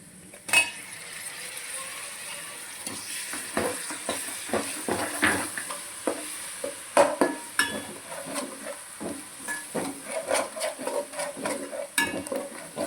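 Poppy seed paste frying in oil in a pan for an egg and fish curry, with repeated spoon scrapes and clinks against the pan over a soft sizzle, close and without speech.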